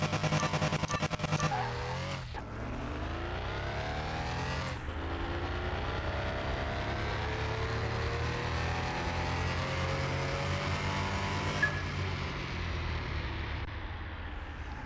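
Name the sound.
2016 Porsche Carrera 4S engine revving in a racing video game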